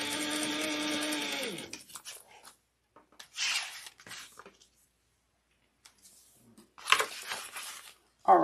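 A sewing machine stitches fabric for a tote bag, its motor whirring steadily for under two seconds before stopping, followed by sparse quiet handling clicks and rustles.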